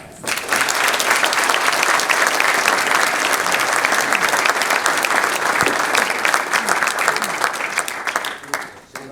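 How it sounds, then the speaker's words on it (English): Loud, full audience applause for panelists after a CEO panel, starting abruptly and holding dense and steady for about eight seconds before dropping off. "please join me in a round of applause for our panelists"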